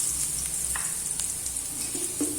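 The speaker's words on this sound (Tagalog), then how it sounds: "Una, gisahin natin ang luya." Ginger sautéing in oil in a pan, a steady close sizzle throughout with a few faint utensil taps and scrapes in the background.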